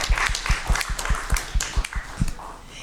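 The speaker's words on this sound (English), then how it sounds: "One more round of applause for them." Quick, evenly spaced claps with soft thumps ring out from an audience at a school district governing board meeting, honoring an elementary school taiko ensemble; the clapping is moderately loud and fairly sparse.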